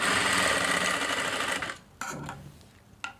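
A sewing machine stitches a side pocket on a pair of pants in one loud, close continuous run that stops after about two seconds, followed by a couple of soft handling clicks.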